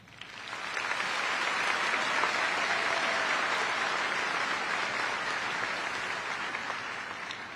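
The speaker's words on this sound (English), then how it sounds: "please join me in giving a round of applause to the parents that guided you" A large audience at a high school graduation ceremony claps steadily, dense applause that swells quickly and holds for several seconds before easing slightly, with no one speaking.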